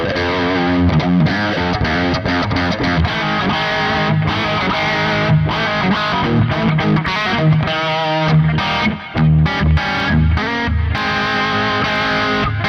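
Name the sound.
80s electric guitar tone, profiled Wangs 2204HW amp, reverb and delay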